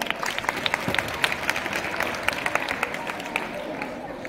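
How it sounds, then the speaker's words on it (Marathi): Audience applause at a live Marathi stage music show honoring the instrumental orchestra, a steady dense patter of many hands clapping with crowd noise, sustained and fairly close. "एकदा जोरदार टाळ्या होऊन जाऊ."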